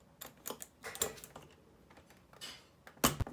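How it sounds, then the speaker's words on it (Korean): Keycaps are pulled one by one off a ten-year-old Realforce 87u capacitive keyboard, making irregular close plastic clicks and snaps with a sharper pop near the end. "먼저 키캡을 분리합니다."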